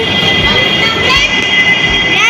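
A Kochi Metro train rolls past close by, a loud steady rumble topped by a high metallic whine that holds for the whole stretch.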